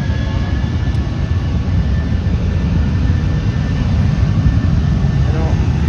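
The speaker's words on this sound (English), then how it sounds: "But we have JetBlue on the runway right now." A JetBlue jet airliner on the runway at Fort Lauderdale airport, a loud steady roar of engine noise filling the air throughout, with an indistinct voice underneath.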